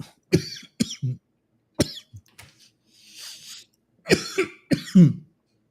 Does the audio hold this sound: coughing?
yes